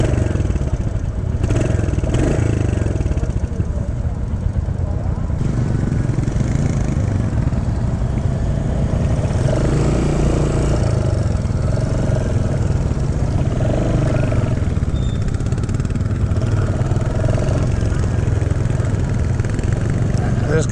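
A Royal Enfield Hunter 350 motorcycle engine runs loudly throughout as a novice rider sets off, a continuous rumbling drone with shifting revs and some background noise.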